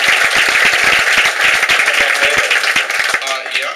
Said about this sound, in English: You guys gotta give him a huge round of applause.